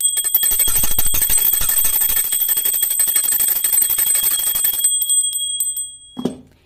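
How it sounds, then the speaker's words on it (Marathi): A hand bell rings rapidly and continuously at close range during evening Swami aarti worship at home, a bright metallic jangle for about five seconds. It stops, leaving a fading ring, and a single soft knock follows. "घरात रोज संध्याकाळी तुम्ही घंटी वाजवायची असते, आता मी वाजवती आहे"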